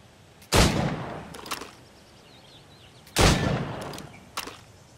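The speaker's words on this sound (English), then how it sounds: "Shoot these targets." Two loud, close gunshots ring out about two and a half seconds apart at targets in Assassin's Creed Rogue, each one followed by a short echo and faint mechanical clicks, with no voices over them.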